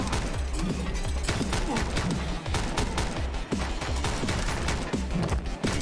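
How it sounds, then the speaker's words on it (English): Relentless gunfire in a John Wick commute simulator game: rapid, evenly spaced shots crack one after another with booming low thuds, loud and nearly unbroken throughout, no speech. "How can they shoot from the outside to the inside?"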